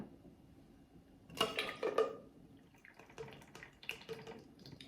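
Guava nectar poured from a bottle into a cocktail glass with dark rum and cream of coconut, a brief close splashing trickle followed by softer intermittent drips and bottle clinks.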